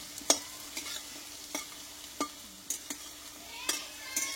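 Lentil and pointed gourd peel fritters frying in a small amount of oil, soft crackling sizzle with several sharp pops and stirring clicks spaced irregularly, close and quiet with no voices.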